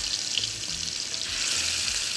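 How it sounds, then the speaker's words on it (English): Cajun scallops sizzling in a skillet, a loud, steady hiss of hot oil heard up close without any talking. "Frying up some scallops."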